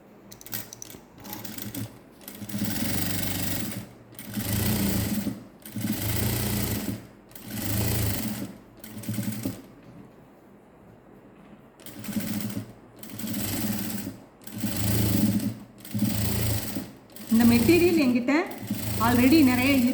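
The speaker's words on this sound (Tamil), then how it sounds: "இப்போ இந்த லைனிங் கிளாத்தில் நான் இந்த ஓரத்துலேயே ஸ்டிச் பண்ணிட்டு வர போகிறேன்" A sewing machine stitches along the edge of a blouse's lining cloth in a series of short, loud, rhythmic bursts with brief pauses between them, close up, and a voice briefly comes in near the end.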